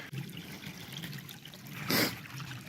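Cold creek water trickles and babbles steadily close by as someone stands in it for a cold-exposure session, with a brief louder splash or gush near the end and no talking.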